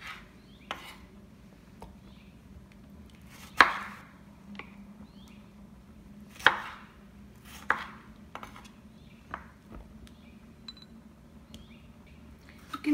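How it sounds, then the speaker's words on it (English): Roma tomatoes chopped with a knife on a board: a series of sharp, irregular knife taps, a few louder than the rest, close and distinct over a low background hum. "So I'm gonna quickly chop the tomatoes."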